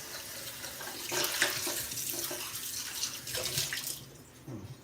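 Filtered water pours and splashes into a pet bowl in a steady, faint trickle that swells and eases over several seconds, then tapers off, with no speech.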